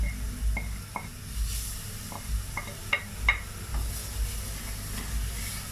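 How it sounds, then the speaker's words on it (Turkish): Grated carrots sautéing with toasted flour in a pan make a soft, steady sizzle under occasional stirring scrapes and light knocks of a utensil against the pan, close by and with no talking. "Böyle havuçlarla birlikte soteleyeceğim."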